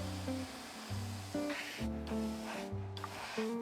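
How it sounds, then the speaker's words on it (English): An airbrush spraying paint onto a model Pinto car gives short, soft hissing bursts that are partly buried under steady background music. "I broke out the airbrush again, and I began painting the Pinto"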